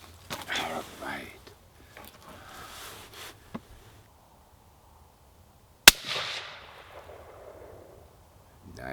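A 6.5 Creedmoor Howa deer rifle fires one loud, sharp shot that rings out and decays over a couple of seconds, after a stretch of quiet handling noise and a brief voice.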